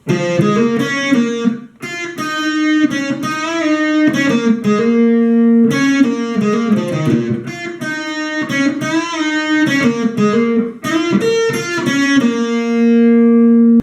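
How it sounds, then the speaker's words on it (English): Lead guitar solo from a song on a distorted electric guitar, a continuous run of sustained, bending notes with short pauses between phrases, loud and close with no talking. "Now let's get to the solo, which should sound like this."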